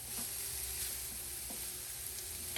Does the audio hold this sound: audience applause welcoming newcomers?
no